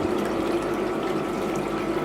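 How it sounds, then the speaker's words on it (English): An aquaponics water pump pushes water into a tank, giving a steady, loud, continuous hum with a constant splashing flow, with no talking over it. "I'm pumping water out of this one with this pump"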